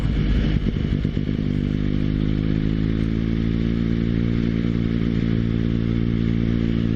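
A motorcycle rolls through a right turn on the road, its engine droning loud and steady after an initial throttle change, with continuous wind and road rumble and no talking.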